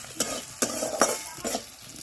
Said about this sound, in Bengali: পাঁচ ফোড়ন দিয়ে একটু ভেজে নেবো